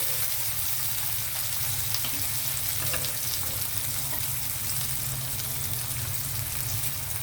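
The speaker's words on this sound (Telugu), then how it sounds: "ఆనియన్ కొంచెం ఫ్రై అయితే మిగతా వేసేసి మనం కొద్దిగా కలర్ మారితే చాలు" Onions sizzle steadily in a hot pan while a curry is being cooked, a dense, even frying hiss that runs close and unbroken throughout with no voices.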